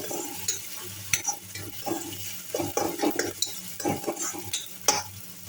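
Chopped tomato, green chilli and curry leaves fry in a pan along with onion and ginger-garlic paste, giving a soft sizzle broken by repeated scraping and stirring clinks of a spoon, close and fairly quiet.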